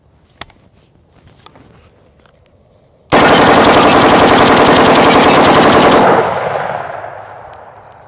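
Thirty rounds of 5.56 rifle fire strike AR500 steel body armor in one long, very loud, rapid automatic burst lasting about three seconds, then fade into echo. A few faint clicks come before it, and nobody talks.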